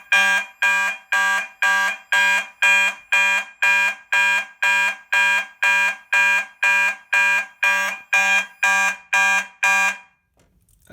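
A fire alarm system sounds after a pull station is activated, repeating a loud, harsh electronic horn in steady pulses about twice per second for ten seconds before cutting off.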